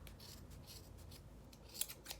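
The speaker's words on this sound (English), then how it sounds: "now I'm going to cut all of these loops at the bottom" Scissors snip through the bottom loops of a yarn tassel, a series of soft, close, quiet cuts that end in one slightly sharper snip.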